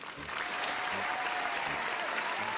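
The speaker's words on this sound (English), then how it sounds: "Round of applause." An audience at a live talk breaks into applause, dense clapping that swells within the first moment and holds steady and loud to the end.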